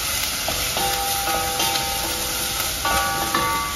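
Onions and garlic fry in oil in a pot over high heat, giving a steady, close sizzle that runs throughout with a few faint clicks and a light ringing tone underneath.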